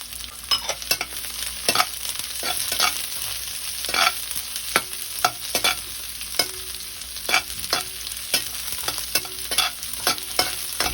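Onions sautéed in a pan after browned garlic while cooking squid, a steady sizzle broken by regular scraping stirs of the spatula, close up with no voices.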